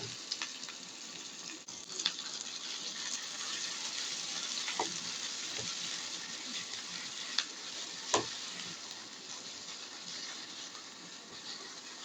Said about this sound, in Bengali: এখানে আমি ফোড়ন দিয়ে দিচ্ছি এগুলো দিয়ে।